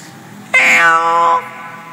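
A cat gives a single loud, clear meow lasting under a second, close by, with only quiet background before and after.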